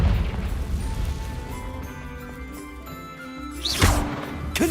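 Confringo fire spell cast in Hogwarts Legacy on PC, a blast with a rushing whoosh and pop that lands late over a low rumbling game soundscape and tonal music, moderately loud.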